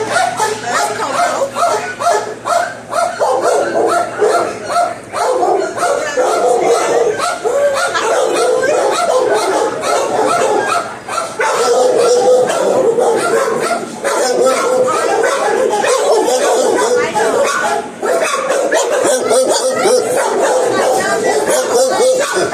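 Coco, a shelter dog at the Finney County Humane Society, barks and yips repeatedly at close range, loud and insistent, with people talking and chuckling around her.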